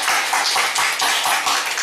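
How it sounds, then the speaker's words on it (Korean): A congregation applauds during a church sermon in a dense, continuous patter of claps that pulses in loose waves, fairly close and loud. "우리 그분께 박수합시다."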